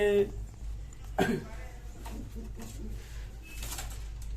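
A golden-eyed female pigeon's low coos sound close by at a pigeon sale, mixed with handling noises and a person speaking intermittently over a low hum.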